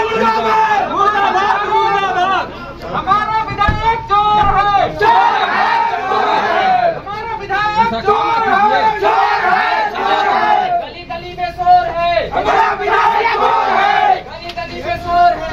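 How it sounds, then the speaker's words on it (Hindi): A protesting crowd chants slogans against MLA Alok Chaurasia, many loud voices shouting in rhythmic bursts, with overlapping yells and brief pauses between chants, close and dense throughout. "नारेबाजी कर रहे लोग अपना विरोध जारी रखते हैं"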